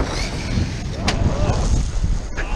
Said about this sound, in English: The wind's picking up big time though.